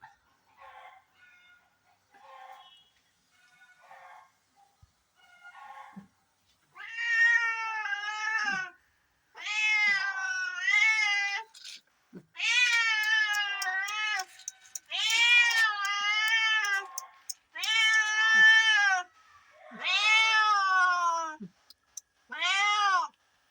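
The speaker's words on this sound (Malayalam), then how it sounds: "ഇതിപ്പോ പുതിയതായിട്ട് വന്നൊരു പൂച്ചയാണ്" A cat meows repeatedly, drawn-out and insistent calls coming in a steady series, loud and close, after a few quieter sounds at the start.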